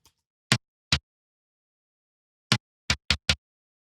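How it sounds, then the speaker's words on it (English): Bright tom stick hits from isolated drum tracks, six sharp dry strikes: two spaced apart, a long pause, then four in a quicker uneven run, close and clear over silence. "So now you have these really bright stick hits that sound really weird on their own."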